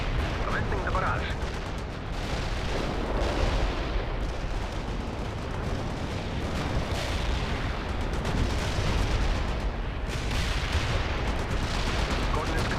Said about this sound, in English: Launching a barrage. Commencing the barrage.